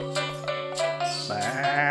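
A series of goat-like bleats from a video game, loud and close, with a steady tonal drone underneath and no talking.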